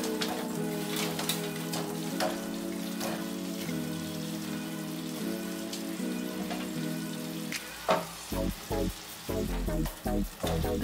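Fried cauliflower pieces tumble into a hot pan of pepper gobi fry, sizzling steadily, then clattering and scraping in short bursts as they are tossed in and stirred.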